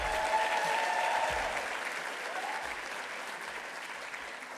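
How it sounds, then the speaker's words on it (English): Audience applause fills a school district awards ceremony honoring educational support personnel: a dense, steady wash of many hands clapping that tapers slightly toward the end, with no voices over it. "How about one more round of applause?"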